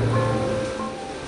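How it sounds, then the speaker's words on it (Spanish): Large ocean waves rolling toward a coastline where wave-energy rafts float, a loud, continuous surf roar that fades gently over its short length, with no talking. "estas enormes olas viajan muchos kilómetros para llegar a nuestra costa"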